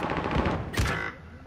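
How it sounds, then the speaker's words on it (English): Shotgun blasts in a multiplayer shooter video game, a rapid cluster of gunfire followed by one louder, sharper close shot that decays into quiet. "he got me with a shotgun"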